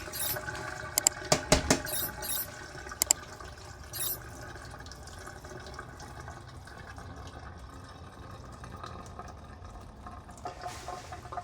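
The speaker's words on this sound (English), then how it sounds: "this process just to wash the burghul" Bulgur being rinsed in a bowl of water for Lebanese kibbeh, with splashing and swishing early on, then a steady low watery wash that continues, close and moderate with no talk.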